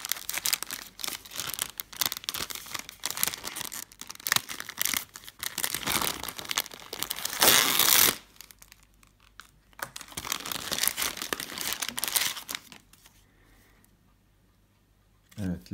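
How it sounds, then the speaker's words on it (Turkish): Plastic packaging around a colour-changing LED strip is torn open and handled: dense, close crinkling and rustling in loud, continuous bursts, then quieter intermittent handling before it fades to near silence. "Paketimizi de açalım."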